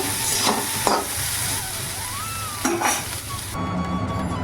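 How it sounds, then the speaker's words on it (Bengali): Boiled soybean chunks fry in oil in a pan, a bright continuous sizzle punctuated by several scraping stirs and splutters, loud and close, with no voices. "সয়াবিনগুলো জলগুলো নিগড়ে একটু ভেজে নিচ্ছি তেল দিয়ে"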